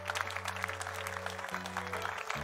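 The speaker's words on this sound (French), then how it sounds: "Est-ce qu'on peut l'applaudir pour qui il est?" A church congregation at a worship service breaks into full, dense applause that carries on throughout, over sustained chords from a keyboard or organ.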